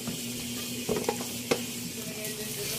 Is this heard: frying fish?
yes